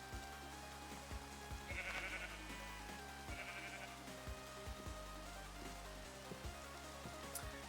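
Minecraft sheep in the video game let out a couple of short bleats over soft, low game ambience, with scattered faint clicks and no talking.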